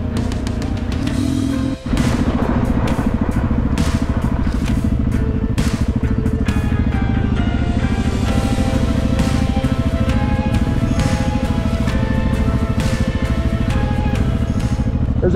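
Several motorcycles race past on an open road one after another, their engines roaring by in a steady, loud stream with repeated passing surges and clattering mechanical noise, no talk heard.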